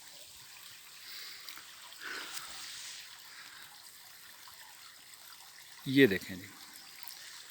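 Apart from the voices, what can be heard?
water trickling and seeping into a stream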